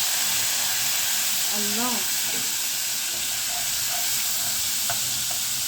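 Vinegar hitting golden fried garlic in a pan gives a steady, close sizzle and hiss throughout, with a brief voice speaking near the start.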